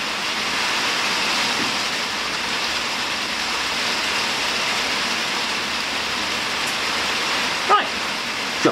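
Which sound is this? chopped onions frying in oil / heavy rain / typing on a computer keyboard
heavy rain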